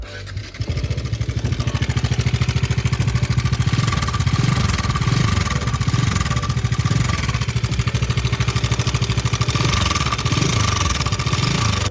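A Bajaj Dominar 400 motorcycle engine with a failed timing chain idles with a harsh, rapid mechanical rattle ticking continuously over the low running note, close and steady throughout.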